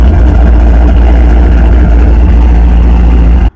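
A car fitted with a MagnaFlow X Mod exhaust rumbles very loudly and steadily at close range, a deep, droning engine note that holds for several seconds and then cuts off abruptly.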